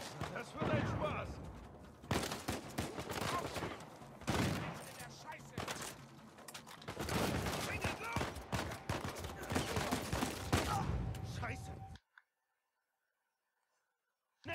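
Rapid, dense bursts of gunfire in the video game Uncharted 4: A Thief's End crackle almost continuously for several seconds, then fall abruptly silent.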